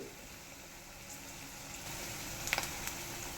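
Green chillies slit lengthwise into two, frying in hot oil for a chicken fry, giving a soft, steady sizzle with a few brief crackles near the end, faint and with no talking.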